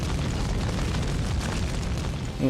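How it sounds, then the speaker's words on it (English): Sustained heavy gunfire roars from a machine gun in the video game Folklore, a dense continuous rumbling barrage with no pauses. "He's getting shot with a machine gun."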